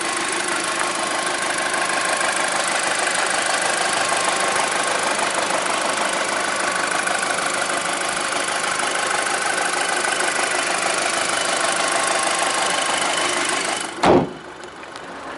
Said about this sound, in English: So it's a 2-litre turbo,